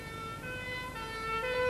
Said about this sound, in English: Fire engine, police car, or ambulance?